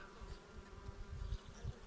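A steady, close buzzing hum of many honeybees inside a hive, continuous and fairly soft, with a low droning texture throughout.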